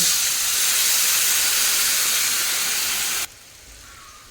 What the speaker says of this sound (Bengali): নাড়িয়ে ভাজা হয়ে গেছে এখন আমি দিয়ে দেবো প্রয়োজন মতো জল